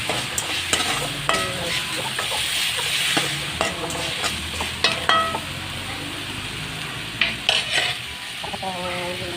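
Tomatoes sautéing in a pan for a tamarind okra curry, with steady frying sizzle under repeated scraping stirs and light clinks of a spoon against the pan, close and continuous with no talk.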